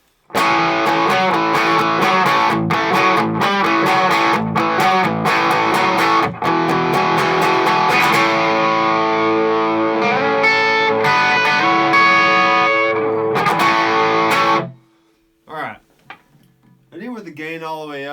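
Loud distorted electric guitar chords with crunchy gain from a gain pedal, strummed rhythmically, then cutting off into brief scattered notes and a voice near the end.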